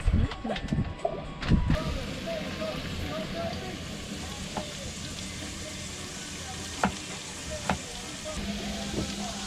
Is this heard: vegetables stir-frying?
yes